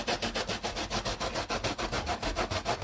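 Lemon rind is grated in quick, even rhythmic strokes, a close scratchy rasp repeating about six times a second with no voices.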